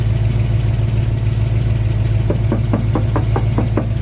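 A knuckle raps about eight times in a quick run on the metal lower fender of a 1972 Chevy Chevelle SS, close and sharp over a steady idling engine.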